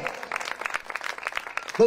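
A church congregation claps together in a short, brisk burst of many hands during a Telugu sermon, dense and fairly close, cut off by a voice at the very end.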